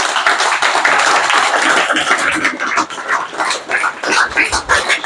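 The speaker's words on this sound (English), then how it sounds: "So let us clap for him again." Students at a secondary school motivational talk in Nigeria clap for a chemistry professor, a dense, loud burst of hand clapping that holds steady, then grows choppier and uneven before tapering near the end.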